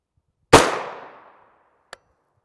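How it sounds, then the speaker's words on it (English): A single loud gunshot strikes a Ronin Armour Systems TYR ballistic panel rated NIJ Level IIIA, a sharp close blast with a ringing decay of about a second, then a brief faint click. "shooting a whole bunch of shots on the plate"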